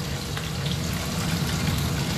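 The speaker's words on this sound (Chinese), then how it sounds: "我们在炸鸡" Chicken frying in hot oil gives a continuous dense sizzle and crackle at moderate level, steady for the whole stretch with no voices over it.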